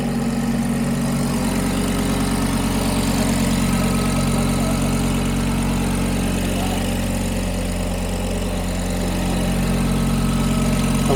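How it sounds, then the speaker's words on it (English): A 620bhp Caddy van's engine idles steadily, giving a loud, even, low rumble with a constant hum that holds without change throughout. "just let it idle for a bit, and see what's going on with this"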